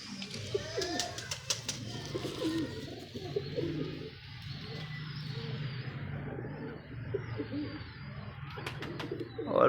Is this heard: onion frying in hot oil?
no